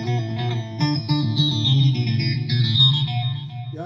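An electric guitar plays a short phrase through a multi-effects processor preset, with chorus-like modulation and slight distortion giving a shimmering, layered tone, close and alone without speech.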